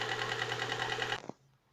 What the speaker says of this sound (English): we can hear some sound that is coming from the top side of the engine and probably from the hydraulic tappets